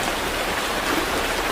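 Heavy rain pours down steadily at a campsite, a loud, dense hiss of drops that stays constant and close throughout.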